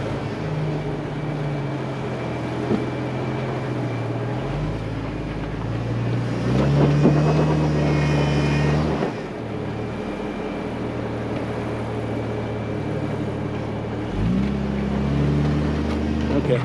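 An off-road vehicle in two-wheel drive climbs a rock ledge on a trail, its engine droning low and steady with revs surging midway and again near the end, under wind noise and occasional voices.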